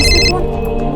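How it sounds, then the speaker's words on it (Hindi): A telephone rings loudly for a brief electronic burst that cuts off almost at once, with a call coming in from the office. "गॉड, ऑफिस से फोन।"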